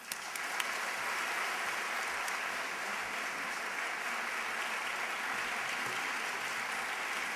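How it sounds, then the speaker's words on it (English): Sustained applause from a large lecture audience welcoming speaker Tim Wise, a dense, steady wash of clapping that holds at full strength for the whole stretch with no talk over it. "please help me with a round of applause to introduce Tim Wise."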